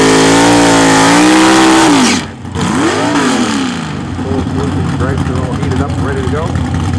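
Drag racing car at the start line of a Super Pro time trial at Greenfield Dragway, its engine revving loudly with rising and falling pitch, a sharp drop near the middle, then a sustained rough roar.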